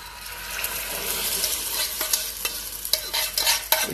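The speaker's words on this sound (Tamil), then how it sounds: "இப்போ ஆயில் காயிட்டோம். அதில் நான் இதை ஊற்றி காமிக்கிறேன்." Omelette batter hits hot oil in a pan and fries with a loud, bright sizzle that builds and crackles in sharp bursts, close and alone without talk.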